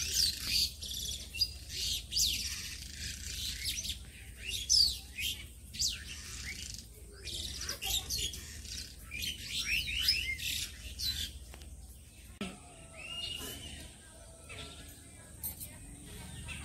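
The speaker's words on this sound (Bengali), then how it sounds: "কি সুন্দর দেখো পাখির ডাক কিচিমিচি করছে" Birds chirp and tweet through a rural morning in repeated bright calls at a moderate distance, joined by soft household sounds and a little background talk.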